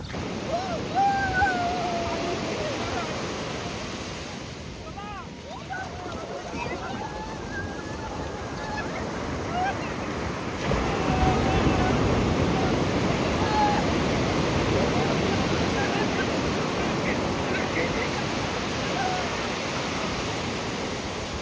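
Sea waves at Golden Beach in Odisha roll in as a steady, loud broadband wash that swells slightly past the midpoint, with people's voices faintly audible underneath.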